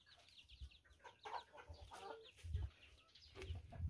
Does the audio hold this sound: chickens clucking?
yes